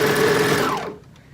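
A sewing machine stitches the seam of a maxi skirt, a fast loud whirring buzz that slows with a falling pitch and stops after about a second, close up and without talk.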